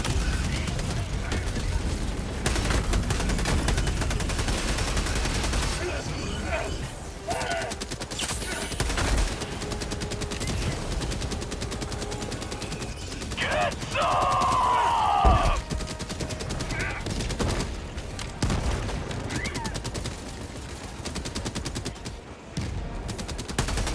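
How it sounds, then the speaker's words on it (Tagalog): Automaton cannon tower firing during a Helldivers-style fight on Draupnir, loud continuous barrage of gunfire and booms throughout, with players talking and shouting over it. "Binaril ako ng cannon!"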